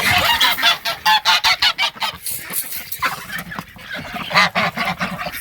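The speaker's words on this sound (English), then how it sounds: "So up here is our girl geese and boy ducks." Loud, close honking from geese in rapid repeated calls, overlapping into a noisy chorus with some quacking mixed in.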